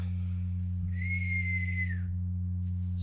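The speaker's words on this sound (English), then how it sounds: "Pipes whistling and venting." In the animated film Monsters Inc, a pipe lets out a single sustained whistle lasting about a second over a low, constant hum, followed by a short breathy burst of venting steam.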